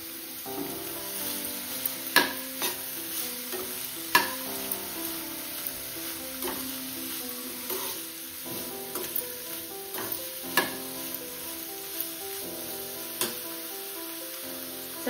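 Paneer and vegetables sizzle steadily in a hot pan, with a utensil clicking and scraping at irregular moments as the mix is stirred, close and moderately loud with no talk.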